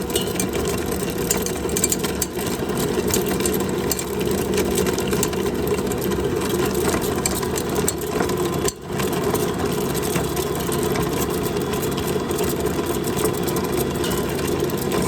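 Ankarsrum stand mixer fitted with a heavy duty beater, creaming cookie dough at increased speed, a steady whirring motor hum with a faint rhythmic churn, close and continuous with a brief dip near the middle.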